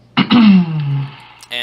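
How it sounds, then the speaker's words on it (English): A person clears their throat once with a short rasping grunt that slides down in pitch, close and fairly loud, during a Pokecube Minecraft play session, with a brief clipped voice sound just after. "Me clearing my throat?"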